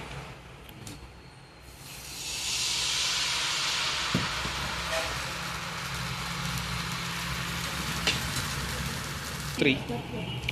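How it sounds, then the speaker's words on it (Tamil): Wheat dosa batter poured onto a hot griddle, setting off a loud, broad hiss that swells after a couple of seconds and holds steady, with a few clicks and scrapes and a voice talking at times. "அடுத்து நம்ம கோதுமை தோசையை உடனே ஊற்றிடுவோம்."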